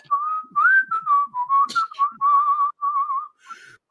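Someone whistles a short wavering tune close by, in quick phrases with brief pauses between them.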